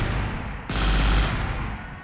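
Rapid gunfire from an unusual high rate-of-fire weapon in a war video game set during a German naval amphibious beach assault on Crimea: a dense, loud, continuous burst that roars on for about a second amid battle noise, with no speech.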